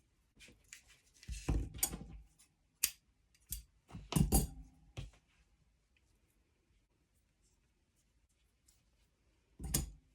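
Scissors trim fabric on a no-sew gnome hat, several short close snips in small clusters separated by quiet pauses.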